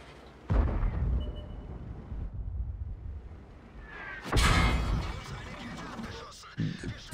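Artillery fire in World of Tanks, two heavy booming blasts with long rumbling tails, one early and a bigger one midway, plus a smaller thud near the end, with a voice talking between them.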